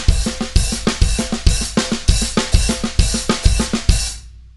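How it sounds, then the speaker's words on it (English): Fast drum kit fill alternating hands between snare and hi-hats, a tight rapid stream of crisp hits with regular accented kick-like pulses, loud and close, ending with a ringing cymbal decay. "play that fill that I did when I was just jamming around the kit"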